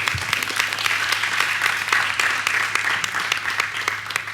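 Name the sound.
audience applause for a student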